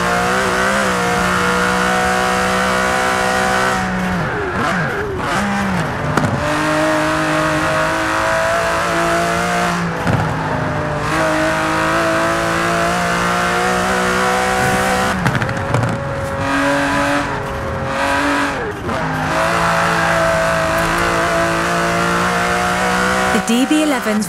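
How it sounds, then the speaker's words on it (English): An Aston Martin DB11 in Forza Horizon 4 roars continuously at high revs, its pitch rising and dropping sharply at each gear change or braking point every few seconds, loud and close. "It's an Aston Martin."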